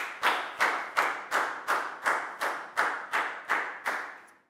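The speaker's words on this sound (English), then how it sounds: "So a big round of applause for Lakau, please, guys." Ten evenly spaced, crisp claps in a Year 4 English lesson, each one ringing briefly before the next, steady and close, fading out at the end with no talk over them.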